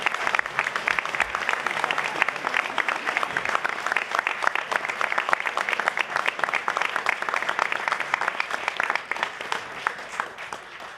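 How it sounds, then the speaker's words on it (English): Audience applauding students receiving honors at a community college awards ceremony, dense sustained clapping from a large crowd that stays loud and even, then tapers slightly at the end. "let's give a warm round of applause to students for the honors"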